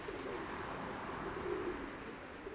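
Soft, low pigeon cooing from a flock of white and Crimean pigeons rolls on steadily beneath a constant hiss of background noise, with no voices present.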